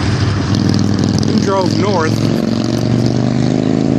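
Cars and motorcycles passing on a highway, a steady loud engine and road rumble throughout with talking over it.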